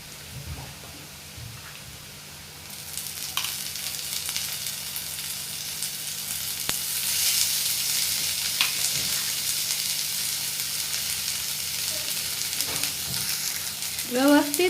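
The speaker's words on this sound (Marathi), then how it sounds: "व्यवस्थित तेलात परतून घ्यायचं आहे वाटण." A ground paste of coconut, green chili, garlic and ginger fries in oil over onions, giving a continuous bright sizzle that swells after a quieter start, with occasional scraping stirs.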